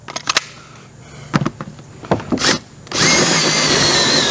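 Several short taps and stutters from a cordless drill on aluminum sheet over plywood in a box trailer, then a sustained loud whirring spin as the bit bites in.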